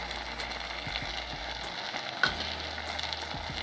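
Okra frying in a pan with sambar powder for a Kerala-style vendakka curry: soft continuous sizzle with a few stirring scrapes and one sharper clink, fairly quiet and close, no voices.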